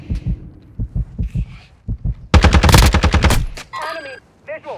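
Rapid automatic gunfire rattles loud and close in Call of Duty Warzone 2 DMZ, a dense burst lasting about a second, framed by heavy thumping heartbeat-like pulses and a radio voice.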